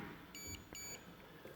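A KR-S80LC access control unit gives two short, clear high-pitched electronic beeps in quick succession, fairly close, over a quiet room.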